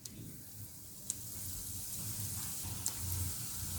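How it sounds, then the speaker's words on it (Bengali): Chicken fingers made from minced chicken fry in hot oil, giving a steady, close sizzle with crackling spatter that runs unbroken throughout, a few sharper pops standing out. "তেল গরম হয়ে গেছে, আমি একটা একটা করে চিকেন ফিঙ্গার গুলো দিয়ে দেব।"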